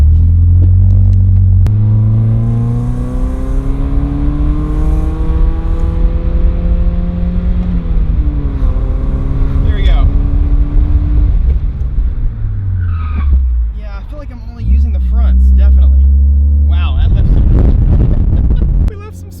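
A Mazda Miata accelerating hard on a road before a 50-to-0 brake stop test, the engine loud and close as it revs up through gear changes, then slowing, with a person talking briefly near the end.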